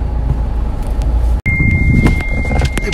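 A Toyota Etios Liva car pulls away at the start of a drive, with a steady low engine and road rumble throughout, a brief dropout midway, and a thin high whine appearing afterward.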